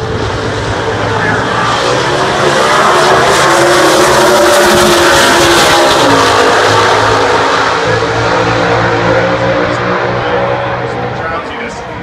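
At a drag strip, a Ford Thunderbolt with a 427 FE big block and an AMX rev loudly, a dense, sustained engine roar with rising and falling tones beneath an announcer's commentary.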